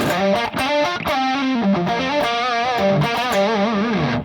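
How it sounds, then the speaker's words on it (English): A fuzzy, distorted electric guitar lead through an octave fuzz effect plays a bending melody with a thick octave-doubled tone, loud and up close, no voices. "We've got an octave fuzz lead."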